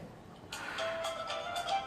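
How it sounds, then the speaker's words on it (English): A phone rings during a live stage show, a repeating electronic ringtone pattern that sounds fairly faint and distant over room noise. "The phone is ringing."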